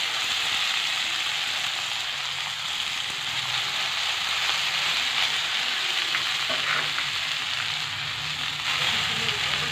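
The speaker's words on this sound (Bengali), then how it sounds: "ক্যাপসিকাম হালকা ফ্রাই হয়ে গেছে, এর মধ্যে আমি এই যে সেদ্ধ করে রাখা চাউমিনটা এর মধ্যে দিয়ে দিচ্ছি" Capsicum and boiled chow mein fry in a pan, giving a loud, steady broadband sizzle with scraping stir sounds throughout and no talking.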